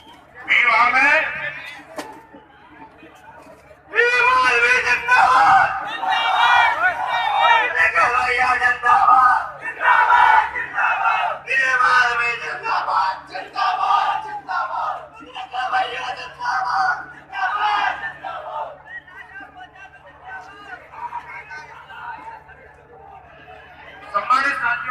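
A crowd at a political rally in Sironj, Madhya Pradesh, shouts and chatters in loud surges, mixed with someone speaking over a loudspeaker, with a brief quieter gap near the start.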